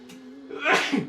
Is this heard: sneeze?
yes